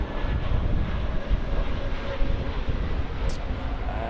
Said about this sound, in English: And here's LH903, the 320neo from Heathrow.